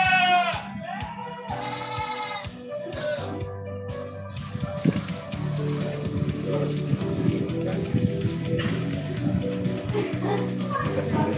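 Goats bleat in close, wavering calls at the BBPP Kupang livestock farm, clearest in the first few seconds, then fading under a steady bed of talk and background sound.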